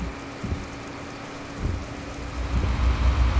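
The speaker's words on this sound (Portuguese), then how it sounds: "E a chuva não para, né, galera?" Steady rain falls around a vehicle on a long road trip toward Minas Gerais, a dense, continuous wash of drops with low rumbling and a few soft thumps, close and unbroken, no voices.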